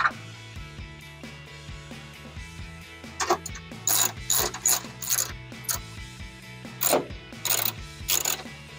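A ratchet tightens the headlight bolts on a 2012-2015 Toyota Tacoma, with quick clicking bursts repeated in several short runs, close by, along with light mechanical handling and no talk.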